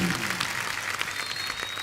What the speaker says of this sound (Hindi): कॉन्फिडेंस के लिए तो तालियां बनती हैं।